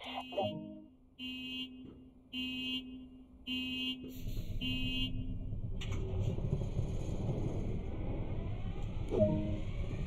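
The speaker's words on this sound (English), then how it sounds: "Now get the engine started." A diesel locomotive in the Train Sim World 2020 video game: several short beeping alert tones repeat at first, then the engine starts and settles into a steady low rumble and idle, with another brief tone near the end.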